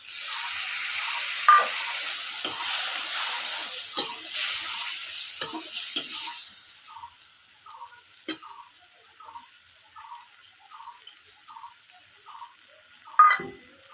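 Spice paste of cumin, coriander, turmeric and chilli hitting jackfruit curry in a pan, a loud sizzle that fades over several seconds, with scattered clinks and scrapes of a spoon stirring and a sharp knock near the end.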